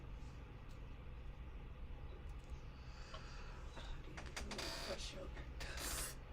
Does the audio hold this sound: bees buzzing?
no